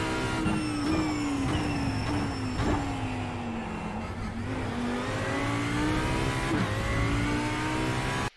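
A GT3 race car engine in the iRacing sim at the Red Bull Ring screams at high revs throughout, pitch rising and dipping with gear changes, a continuous loud synthetic-sounding drone.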